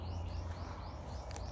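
Pet finches in a warm greenhouse aviary give a quick run of thin, rising chirps over a steady low hum, fairly soft and without talking.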